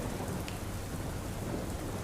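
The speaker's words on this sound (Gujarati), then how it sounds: "અનેક વિસ્તારોમાં અત્યારે વરસાદી માહોલ જોવા મળી રહ્યો છે" Heavy rain pours down steadily during a storm in Gujarat, a dense continuous hiss with a low rumble underneath and no voices.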